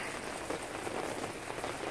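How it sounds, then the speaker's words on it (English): Heavy rain falls steadily along the Oregon coast near a campground of small cabins, a dense, even hiss of drops pattering on surfaces nearby, with no voices. "but it's raining so bad."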